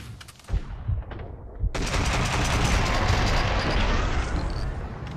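Dense, continuous gunfire roars in a sustained rapid burst in Max Payne 2, preceded by a few scattered shots, loud and close.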